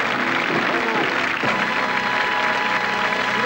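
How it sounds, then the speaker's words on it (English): Studio audience applause on a 1983 British television game show, a steady dense wash of clapping that fills the whole stretch at an even level, with a voice talking over it. "Give them a round of applause, folks."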